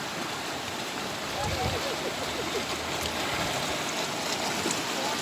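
Rainwater runs overhead across a roof or covering in Sri Lanka, a steady rushing wash of water that fills the whole stretch, with faint voices underneath.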